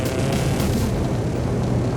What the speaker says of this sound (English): I hate the sound that the roads make when you drive on them though.